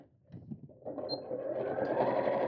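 A sewing machine stitches a straight seam in fabric for a craft bag. The soft whirring starts quietly and then builds into a steady, close, continuous run.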